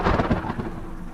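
Intense rain with thunder, a loud rolling rumble up front that eases into a steady downpour hiss, no voices.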